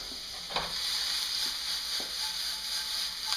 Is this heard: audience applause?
no